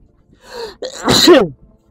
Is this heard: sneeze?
yes